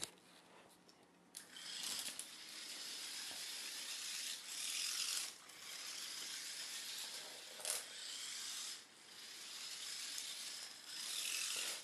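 A small motor-driven robot with a servo drives along a hallway, giving off a buzzy, ratcheting mechanical whir in several bursts separated by brief pauses, close by and without talk.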